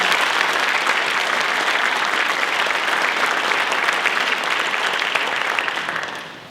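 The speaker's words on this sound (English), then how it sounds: "Let's give you all a round of applause." Loud, sustained applause from an audience honoring first responders and medical staff at a valor awards ceremony, dense and even before fading out at the end.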